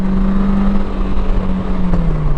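A 2023 Polaris Slingshot S engine droning steadily from inside the cabin, its pitch holding and then dropping slightly as it shifts between first and second gear, with road rumble underneath.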